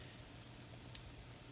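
Banana nut pancakes fry in a pan of hot oil, giving a steady, close sizzle with a faint crackle throughout and one brief sharper pop partway through; nobody speaks.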